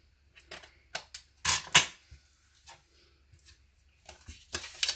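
Paper being trimmed for a Stampin' Up insta pouch, with crisp irregular snips and cutting clicks in bursts, close and clear in a quiet room.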